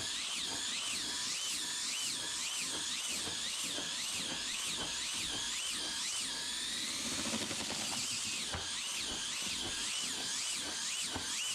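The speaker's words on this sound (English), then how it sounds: "So we got a little mixer paddle here on the drill" A drill fitted with a paint or drywall mixer paddle churns homemade chicken feed, a steady close whirring hiss with rhythmic wavering pulses that run continuously throughout.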